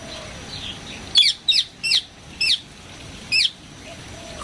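Birds call in the aviary of KL Bird Park in Kuala Lumpur, five sharp, high chirps spaced about half a second apart over a faint, quiet background.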